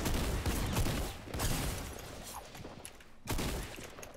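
Rapid bursts of gunfire from a shooting video game come loud and close in clustered volleys, with a brief lull before a fresh burst near the end.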